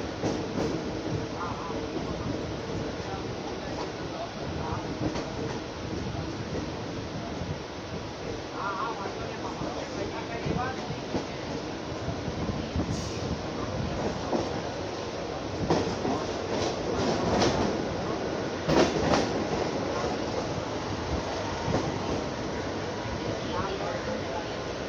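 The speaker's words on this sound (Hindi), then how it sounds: "अपने दो लोकल ट्रेनों के बीच में रेस लग चुकी है" Two Mumbai local trains, one slow and one fast, run side by side near CST. A steady, loud rolling rumble with scattered clanks and wheel clatter continues throughout, and someone talks over it.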